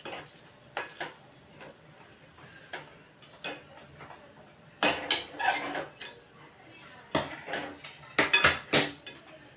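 Sajuk-tup sheera being stirred in a pan with warmed cashews and almonds, a spoon scraping and clinking against the metal in irregular bursts that grow louder and busier, with light sizzling underneath.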